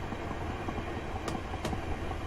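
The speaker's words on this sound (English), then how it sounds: "So I've idled the power just to let the train slow down naturally here as we approach" A Class 375 electric train coasting with power idled as it slows toward a station in Train Simulator 2018, a steady rolling rumble with faint rhythmic wheel clicks, a few sharp ticks and no voices.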